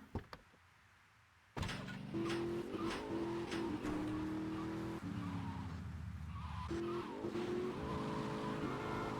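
Car in GTA Vice City skidding with tires squealing: a short faint noise, then an engine roars in loud and sustained, with several long pitched squeals over it as the car slides.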